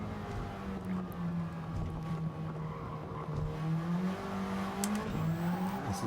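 A race car in Gran Turismo 7 screams past other cars at around 325 km/h, its engine holding a high, steady drone with small pitch shifts while tire and road noise hum underneath.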